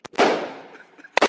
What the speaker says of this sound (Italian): Stefanino, vieni a vedere Sasha che spara col G26.